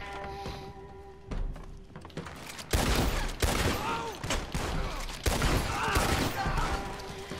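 Explosive rounds fired in Red Dead Redemption 2, with loud, booming shots and heavy thunks that come in clusters after a quieter opening, close and forceful, with a voice faintly in the background.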